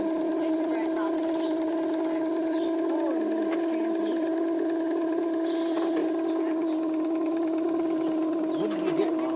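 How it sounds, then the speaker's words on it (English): A small steam mill engine with a horizontal boiler runs steadily, giving a constant tonal hum with mechanical whirring and faint ticking, and people talk quietly over it. "Not quite so loud once it's heated up. You have that hum."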